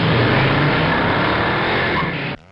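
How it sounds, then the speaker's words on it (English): Loud roaring engine noise from motorcycles street racing near a highway entrance ramp in a Riverside neighborhood at night, a sustained harsh revving wash that cuts off abruptly. "The loud revving of motorcycles and what they believe is motorcycle street racing"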